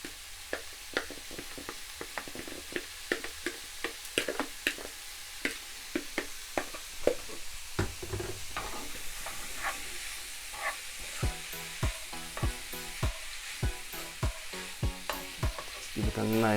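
Minced beef fries in a pan, a continuous sizzle and hiss broken by frequent clicks and scrapes of stirring, close and fairly loud throughout with no talking.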